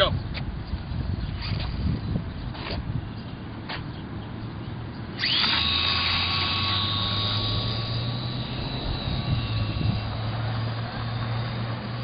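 An RC Slow Stick model airplane towing a glider for launch, its electric motor droning and then rising sharply into a steady, loud whine that holds on, heard outdoors.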